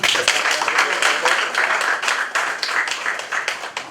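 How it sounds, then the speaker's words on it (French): People at a press conference in Washington, D.C. break into applause, a dense flurry of claps that carries strongly throughout, with some voices audible underneath. "Ça nous dirait d'applaudir quand même."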